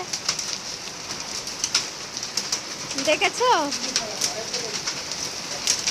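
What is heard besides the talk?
hailstorm with rain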